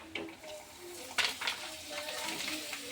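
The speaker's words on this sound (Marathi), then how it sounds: "पटपट मी पापड पण तळून घेऊ राहिले." Papad frying in hot oil, close crackling and bubbling sizzle with a few sharp bursts and light utensil scrapes against the pan, fairly quiet.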